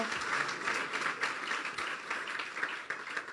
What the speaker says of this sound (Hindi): फिर तालियां बजा दें फिर यीशु के लिए